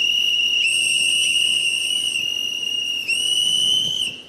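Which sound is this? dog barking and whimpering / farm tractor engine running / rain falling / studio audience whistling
studio audience whistling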